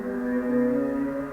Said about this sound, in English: here I have a pitch down violin